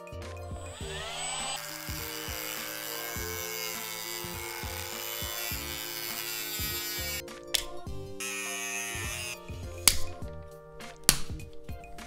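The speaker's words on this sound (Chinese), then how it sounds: "这个钛合金的外壳呢，应该是焊接上的，咱们直接切。" Power tool cutting through the welded titanium alloy casing of a cardiac pacemaker, a steady buzzing grind that runs for several seconds, then gives way to scattered clicks and knocks.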